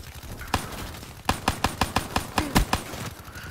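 Gunfire from a gun loaded with FMJ rounds in a first-person shooter video game: a single shot, then a rapid burst of about ten loud, close shots in a steady rhythm.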